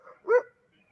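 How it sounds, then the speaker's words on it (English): One short dog bark, far off and muffled, caught on a house security camera recording, with near silence before and after. "That sounds like a dog that's on that camera."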